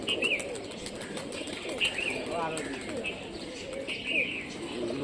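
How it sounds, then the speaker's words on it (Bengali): Pigeon flapping its wings as it lands, giving a soft fluttering rustle amid coos and chirps from nearby birds outdoors, fairly faint, with someone talking over it. "বসে গেল কবুতরটা, দুর্ভাগ্যবশত বাজি করলো না"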